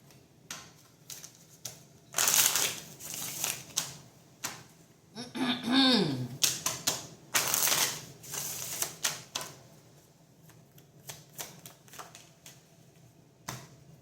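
Oracle cards being shuffled by hand: bursts of riffling and flicking card noise in separate clusters, close up, along with soft taps and a brief voiced sound in the middle.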